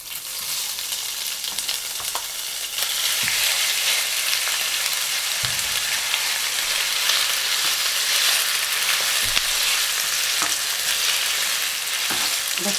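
Carrots hitting very hot oil and stir-fried with pork give a loud, steady sizzle and crackle, growing fuller after a few seconds, with occasional scraping stirs and no talk.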